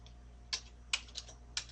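Scattered keystrokes on a computer keyboard, about six quick light taps in uneven bursts against a quiet room hum.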